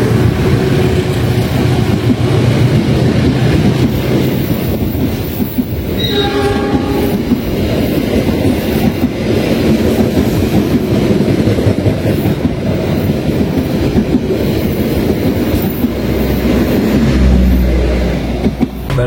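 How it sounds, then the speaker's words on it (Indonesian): Malabar passenger train passing through Ciamis station in Indonesia, a loud sustained rumble and rail clatter running throughout, with a brief horn-like tone mid-pass. "Kereta api Malabar melintas langsung menyusul kereta api Lodaya Tambahan di stasiun Ciamis."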